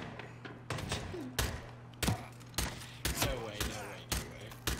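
Video game gunfire in a match, with a series of spaced, muffled thumping shots and blasts under faint background hum, mixed with brief voice sounds.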